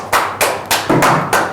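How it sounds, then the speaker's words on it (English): Applause for student debaters after a round on whether homework should be banned in schools: five slow, evenly spaced hand claps, close and crisp, each with a short echo, sounding like one or a few people rather than a full crowd. "I'm going to ask everybody who did not debate to give you all a round of applause"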